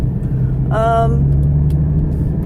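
A car with a manual transmission drives along a straight city street, its steady low engine hum and road rumble continuous and close, with a brief voice sound over it.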